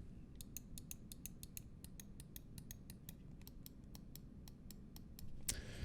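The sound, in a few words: Finalmouse Scream One mouse button clicks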